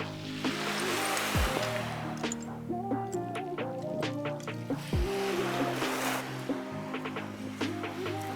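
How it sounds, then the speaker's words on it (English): A steady wash of waves breaking on a flat-stone beach at Rimouski, with occasional higher tonal calls drifting over the continuous surf. "an interesting beach with flat stones where you can finally hear the sound of the waves"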